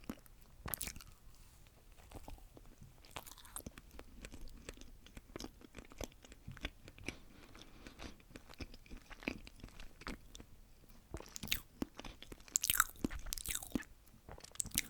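Close, intimate bites and chewing on a Milka chocolate madeleine cake, with repeated soft crunches and moist mastication over about fifteen seconds, growing a little louder near the end, and no talking.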